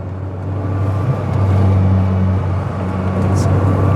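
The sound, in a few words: Rover 100 car driving around a roundabout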